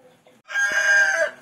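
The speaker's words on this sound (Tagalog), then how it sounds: "Manok." A rooster lets out a single loud, close crow that rises and holds before trailing off, with faint hen clucking just before it, outdoors at a rural home in Quezon Province.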